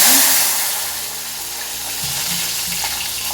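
Brinjal pieces dropped into hot oil set off a loud, bubbling sizzle that settles into a steady close crackle, with faint stirring clatter and no talking.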